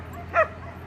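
Two dogs give a single short, sharp yip-like bark, near and fairly loud, over a steady low background hum in an indoor dog-care setting.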